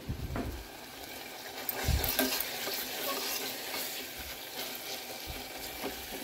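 Ginger, garlic, turmeric and drumstick leaves frying in oil, with a steady sizzle and intermittent scraping thumps of a spoon stirring in the pan.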